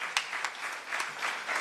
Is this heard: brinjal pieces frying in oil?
no